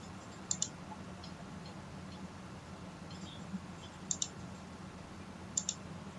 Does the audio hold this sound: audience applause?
no